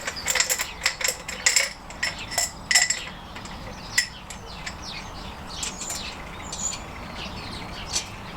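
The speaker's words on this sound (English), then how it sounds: "Going to put our nuts on. So my washers on first." Metal washers placed one by one onto the studs of a classic Fiat 500 engine during a head gasket replacement: a quick series of light, bright metallic clinks and taps, busiest at the start, then sparser, over a quiet workshop background.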